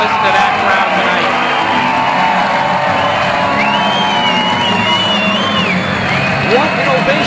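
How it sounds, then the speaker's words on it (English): Arena crowd in Lewiston, Maine, cheers and whoops continuously for a fighter's entrance at a mixed martial arts event, a loud sustained roar with whistles rising above it. "What an ovation from the crowd here in Lewiston, Maine."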